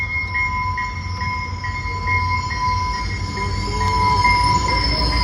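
A train rolls past close by, steady rumble with high metallic wheel squeal and ringing tones running throughout, fairly loud and continuous.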